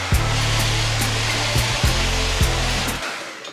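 A blow dryer runs steadily on high, heating the lace hairline of a 26-inch brown highlight 360 lace wig during an install. It is a loud, close whir with small pulsing variations, and it cuts off near the end.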